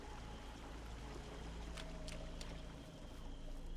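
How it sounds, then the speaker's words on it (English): Steady broad rush of a video game waterfall, a continuous even wash of falling water that stays constant throughout with a few faint higher splashes over it. "There's the waterfall."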